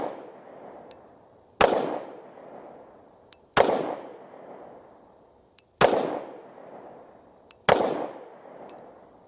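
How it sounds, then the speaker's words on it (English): Four loud, sharp pistol shots from an FN handgun on an outdoor shooting range, spaced roughly two seconds apart, each trailing off into a long echoing decay with no talking. "The first few shots were low, figuring out the hold on this."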